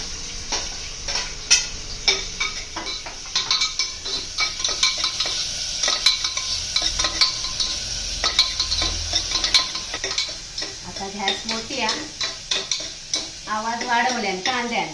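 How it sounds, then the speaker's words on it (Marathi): Finely chopped onion fries in hot oil for a tender jackfruit curry, a steady close sizzle broken by frequent clinks and scrapes of a spoon stirring in a metal pan. "आता जो बारीक चिरून कांदो घेतो ना तो घालून घेतो"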